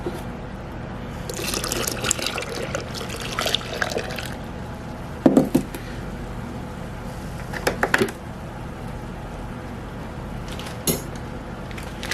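Milk is poured into a mixture for coconut cream pie, heard as a soft, continuous liquid pour with intermittent splashes and clinks of kitchenware, fairly close and without talking.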